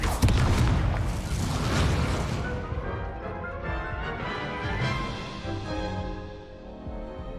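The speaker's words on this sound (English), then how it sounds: "Lumos, Levioso, incendio. Confringo!" A Confringo fire spell explodes in the Hogwarts Legacy video game, a loud booming blast that rumbles and slowly fades over several seconds.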